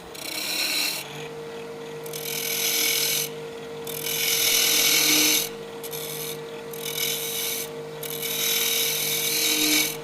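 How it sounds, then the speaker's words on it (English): A 5/8 inch spindle gouge cutting the end of a wooden whiskey tumbler spinning on a lathe: repeated scraping, rasping cuts in bursts of a second or two, over the steady hum of the lathe motor. "Now I'm going to start tapering or rounding over these two ends. And I do mine with a 5/8 inch spindle gouge."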